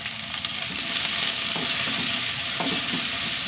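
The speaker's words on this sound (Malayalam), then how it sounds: "നന്നായി വഴണ്ട് വരാം" Small onions and a little onion frying in oil with mustard seeds and fenugreek in a pan, giving a loud, steady crackling sizzle with occasional soft stirring knocks, close up.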